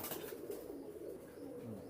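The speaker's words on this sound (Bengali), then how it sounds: "এটা হচ্ছে ইমানদিন কবুতর" An Imandin pigeon gives low, soft cooing close by, a muffled rolling call against a quiet background.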